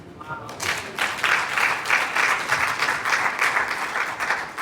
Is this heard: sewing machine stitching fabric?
no